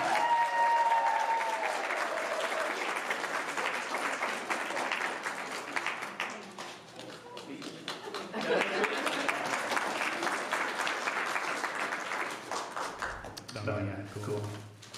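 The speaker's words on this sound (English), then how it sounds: "a raucous round of applause" Loud, sustained applause from a parish meeting audience honouring members rotating off, steady clapping for most of the stretch, easing briefly midway before swelling again and ending with a voice.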